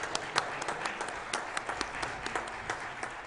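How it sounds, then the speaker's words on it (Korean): A church congregation claps during a Sunday service celebrating a baptism, with scattered, fairly soft applause and distinct individual claps at a moderate distance. "그럼 우리 박수로 축하해 주시기 바라겠습니다."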